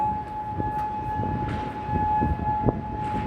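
A civil defense siren sounds steadily in Kuwait, a sustained wailing tone held without pause throughout, with faint background knocks and street noise underneath.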